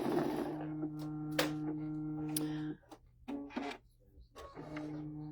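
An embroidery machine runs a satin stitch, a steady mechanical whir with rapid repetitive needle ticking and a constant motor hum. It stops briefly partway through, then starts again for short bursts.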